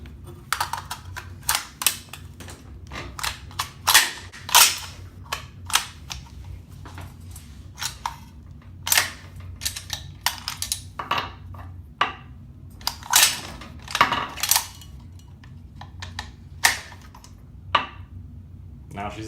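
A Uintah Precision UPR-10 rifle, just converted from .243 to 6.5 Creedmoor, has its action cycled in a function check: a series of sharp, close metallic clacks and snaps in irregular bursts, with faint low speech underneath.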